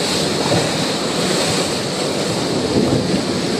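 Strong ocean surf pounds a shore in a continuous loud roar, with wind rushing across the microphone throughout and no voices.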